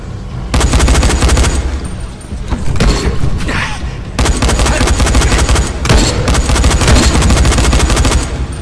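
Loud, sustained gunfire and booming blasts in the zombie game Dying Light, in dense rapid bursts with two short lulls, alone without talk.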